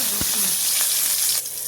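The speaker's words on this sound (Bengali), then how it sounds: "কাঁচা লঙ্কা রসুন ভাজা হয়ে গেছে হালকা" Green chillies and garlic frying in a pan, a continuous close sizzle over about two seconds with a couple of short clinks of a utensil; no talking.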